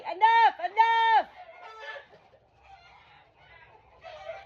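Backyard chickens squabble loudly, with two strong squawking calls up close in the first second, followed by quieter clucks and murmurs.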